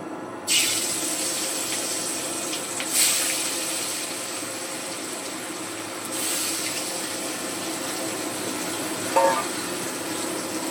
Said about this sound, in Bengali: এবারে নুন হলুদ মাখানো মাছটা তেলের মধ্যে দিয়ে দিচ্ছি